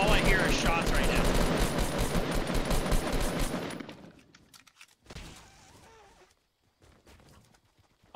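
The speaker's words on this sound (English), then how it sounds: "all I hear are shots right now" Dense, loud gunfire in a multiplayer shooter game, a roaring continuous barrage for several seconds, then fading into scattered distant shots and quieter game noise.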